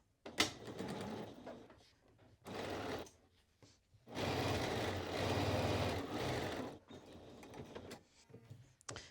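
Sewing machine stitching wide dress straps with interfacing side up, in bursts of steady whirring separated by pauses, the longest run lasting a few seconds; fairly close and moderately loud with no talk.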